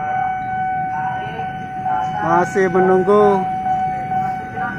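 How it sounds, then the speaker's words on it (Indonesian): A KRL commuter train from Bogor heads toward a level crossing at Kalibata, with crossing tones ringing steadily and a loud horn-like blast sounding midway, while a voice briefly speaks over it. "kereta dari arah Bogor ke Jakarta"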